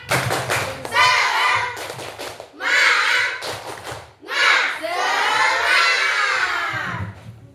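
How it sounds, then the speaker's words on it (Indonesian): Schoolchildren in a classroom shout together in bursts of loud chanting, with rhythmic clapping thumps between the shouts, close and energetic. "Tepuk semangat."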